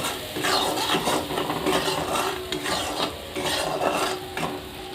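Spices get stir-fried with turmeric powder and salt, the spatula scraping and rasping rhythmically against the pan over a continuous sizzle, close and steady with no voices.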